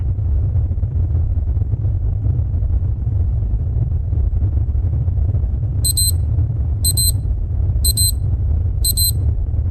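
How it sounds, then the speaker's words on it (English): A spacecraft cabin alarm on a moonbase set: four short, bright electronic beep bursts at regular intervals, sounding over a constant low mechanical rumble and hum. "Shut off the alarm."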